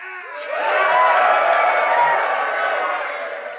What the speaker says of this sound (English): So guys, give me some lot of noise.